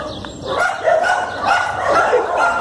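Pit bulls barking and yelping aggressively in a tense, close, loud burst of overlapping barks and whines, with some chirping birds faintly behind.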